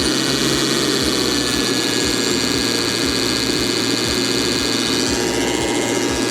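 A GTM CS56/3000BL battery chainsaw runs at a steady, loud electric whine with a low, rhythmic pulsing hum underneath and no talk over it.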